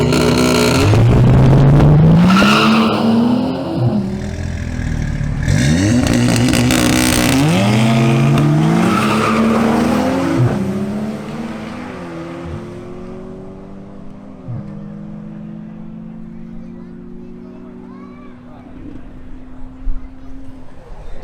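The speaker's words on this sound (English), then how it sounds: "Next up to make a new run is Sebastian Sepulveda in his BMW M240i xDrive." A BMW M240i xDrive launches hard on a drag strip, its engine revving loudly up through several rising gear pulls before fading into the distance as the run continues.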